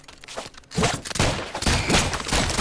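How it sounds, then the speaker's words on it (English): Dense rapid gunfire in the video game ROUNDS, a loud continuous burst of overlapping shots and thuds after a brief quieter opening, with no talk. "How are we missing all these shots?"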